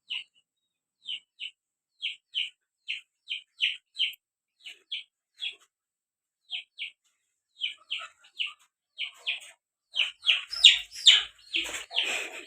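A small chick peeps repeatedly in short, high, shrill chirps, evenly spaced at first, then becoming faster and more clustered with some rustling toward the end.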